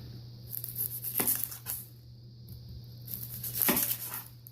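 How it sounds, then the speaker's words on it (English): A knife cuts through an onion in a home kitchen while taco boat filling is prepared. A few quiet, sharp cutting strokes sit over a steady low hum with pauses between them. "First thing we're going to do is we're going to cut one onion."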